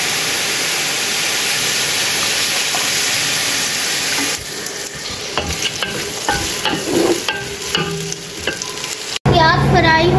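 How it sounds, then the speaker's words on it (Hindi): Four chopped medium onions fry in oil to brown, a steady loud sizzle that gives way to scraping and clinking stirring strokes, ending in a brief sharper burst. "प्याज फ्राई हो रहे हैं"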